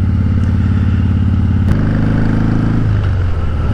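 Harley-Davidson Breakout motorcycle with a cracked oil line, ridden gently: a loud, steady low engine rumble with a throttle change midway and a slight drop near the end, no talk.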